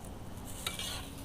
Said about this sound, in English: And then ready, you can hear it sizzling.